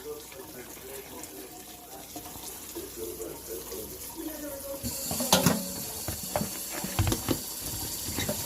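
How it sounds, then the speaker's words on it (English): Cauliflower in a colander gets rinsed under a kitchen tap. Steady running water splashes and patters, then grows louder with clattering knocks partway through. "So now I've got my cauliflower in the colander, and I'm just going to rinse it off."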